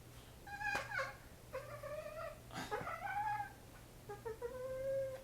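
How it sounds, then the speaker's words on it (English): A cat caterwauling in heat, drawn-out yowling cries rising and falling in several separate calls, fairly close against a low steady hum. "This horny ass cat."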